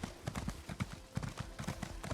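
Horse hooves clip-clop steadily in Elder Scrolls Online, a rhythmic run of soft thuds at moderate level, riding beneath a faint ambient game bed with no talk.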